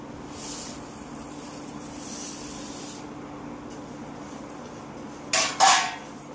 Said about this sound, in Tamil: கம்பையும் நல்லா கழுவி காய வச்சு அதுக்கப்புறம் இப்படி வறுத்துட்டு இருக்கோம்